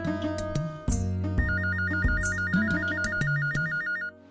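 A phone ringtone plays a repeating electronic melody, steady and fairly loud, with a warbling trill pattern running for about four seconds before it cuts off.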